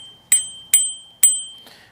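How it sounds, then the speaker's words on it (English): Three crisp dings from the handlebar bell of a Varun M26-2 Pro e-bike, evenly spaced and close, each ringing out bright before fading, with a softer fourth tap at the end. "We have our bell,"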